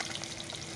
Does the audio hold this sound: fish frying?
yes